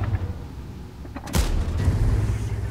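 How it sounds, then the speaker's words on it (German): Artillery shell striking near a tank in World of Tanks, one heavy, close boom with a sharp crack that gives way to a sustained low rumble. "Gerade eben von der Arti eingefressen."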